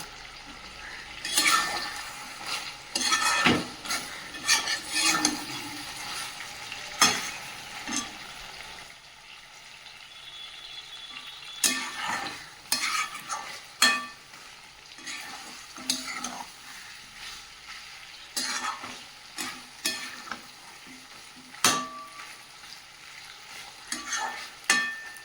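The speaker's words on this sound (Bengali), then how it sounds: "মাংসটা খুব সুন্দর করে কষিয়ে নিয়েছি, আর মাংস থেকে তেলটাও ছেড়ে দিয়েছে।" Meat is stir-fried in oil in a pan, kosha style, with a close, continuous sizzle and repeated scraping and clattering of a spatula against the pan in uneven bursts.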